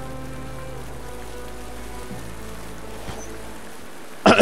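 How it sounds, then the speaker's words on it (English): Rain in the video game Magicka, a steady, even patter of falling rain that holds throughout before a sudden loud burst of game noise cuts in at the end. "Why is it raining?"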